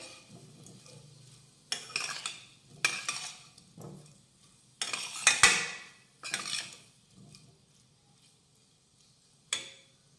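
Potato sautéing in a pan for a Marathi onion-garlic-free veg thali, heard as several separate bursts of scraping and stirring with quiet stretches between them, a faint sizzle underneath, close and with no talk.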